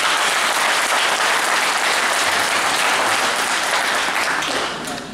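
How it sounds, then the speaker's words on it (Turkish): At a Turkish panel and music recital, a hall audience gives a loud, sustained burst of clapping that holds steady and thins slightly in the last moment. "Çok özel bir teşekkür ve özel bir alkış istiyorum"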